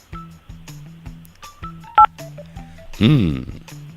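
A single telephone keypad DTMF tone for the digit 8 sounds as a brief, loud dual-pitched beep amid a string of other electronic tones and jingle-like sounds on a radio prank call.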